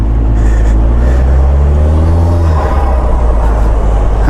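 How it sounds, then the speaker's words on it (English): Rewaco Explorer trike engine revving hard and loud up close, a deep rumbling drone that climbs in pitch as the turbo spools up, steady and continuous throughout. "you hear that turbo kicking up?"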